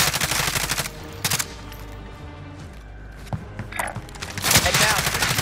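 Enemy gunfire in a video game crackles in sharp bursts of rapid automatic shots, loud at the start and end with a quieter stretch in between.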